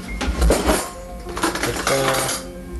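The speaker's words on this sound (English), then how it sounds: "Now you're supposed to stir this up so you get all the noodles" A metal fork scrapes and clinks against a Cup O Noodles cup while stirring the noodles, a few close, irregular rattles and taps with some background sound.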